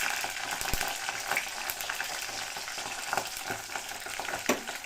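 Homemade hair oil with rose petals sizzles and fries in a pan on a stove, a steady crackling hiss broken by occasional louder pops and stirring clinks. No one talks over it.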